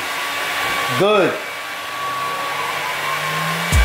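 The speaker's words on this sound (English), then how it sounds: "I'm turning this TV up because you got the dryer going." A household clothes dryer runs with a steady, loud whirring hum through the whole stretch, while a brief spoken word and other voices are heard over it.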